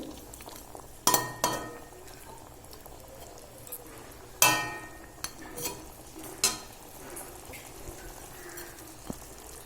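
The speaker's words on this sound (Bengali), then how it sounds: "আস্তে আস্তে করে নেড়ে দিতে হবে।" A small tengra fish curry with a splash of added water is stirred slowly in a pan, with several sharp spoon scrapes and clinks over a low bubbling simmer.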